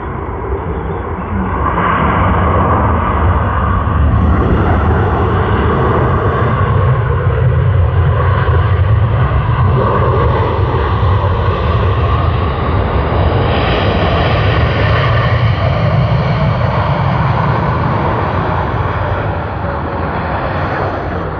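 A China Southern airliner landing at Sydney Airport gives a loud, sustained jet engine roar with broad rumble that swells and holds throughout, no voices present.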